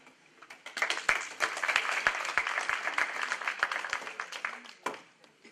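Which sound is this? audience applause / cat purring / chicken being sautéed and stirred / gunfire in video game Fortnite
audience applause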